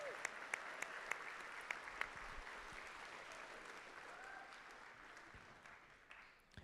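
Audience applause for silver medal winners at a miniature painting competition awards ceremony, a dense, steady roar of many hands clapping that fades slightly near the end, with a few sharper claps standing out.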